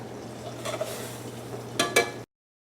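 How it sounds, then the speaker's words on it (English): Fish frying under a lid in a pan gives a steady low sizzle, with a few sharp clinks and scrapes of utensils near the end before it cuts off. "All right, the fish is cooking, it's covered up."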